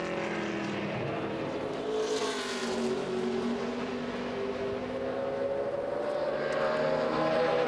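A NASCAR Nationwide Series stock car on a qualifying lap at Richmond International Raceway, its engine a steady, loud drone with a slowly rising and falling pitch as it circles the track, no talk over it.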